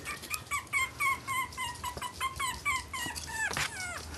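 A puppy whimpers and squeaks in a run of short, high-pitched cries, fairly close, with brief pauses between them.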